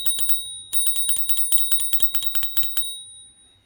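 A small handlebar bell on a bicycle, rung rapidly in two bursts of repeated bright metallic dings, close and loud, with no talking.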